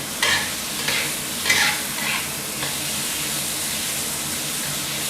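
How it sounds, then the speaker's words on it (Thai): Minced pork stir-fries in a pan with a continuous loud sizzle, with a few scraping spatula strokes early on before settling into steady hissing frying. "เดี๋ยวเราผัดจนหมูสับเริ่มสุกสักครู่หนึ่งก่อนนะครับ"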